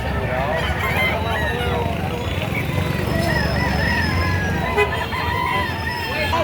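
Roosters, among them a bull stag and cocks for sale at a Tuesday chicken market in Padre Garcia, Batangas, crow and cluck from several directions amid a dense crowd din, with people talking throughout.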